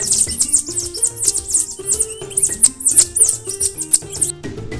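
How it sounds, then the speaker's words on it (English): Emperor tamarin giving rapid, high-pitched chirps and squeaky trills in a dense, loud, close stream, with faint music underneath. "Emperor tamarin."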